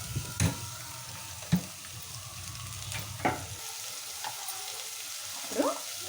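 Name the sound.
cumin, mustard seeds and sliced onions frying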